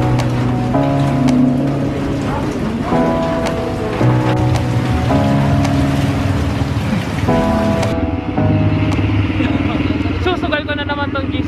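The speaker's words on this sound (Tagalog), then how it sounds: "hindi naman kasi ganun kalakas yung ulan" Rain falls during a boat trip near Legazpi, a steady patter against a background of tonal music, with a rougher splashing texture toward the end.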